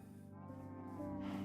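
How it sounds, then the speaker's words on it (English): A Minecraft cow lets out a drawn-out, low, buzzy moo that swells slightly toward the end, steady and fairly close, with no voices over it. "Hello, cows."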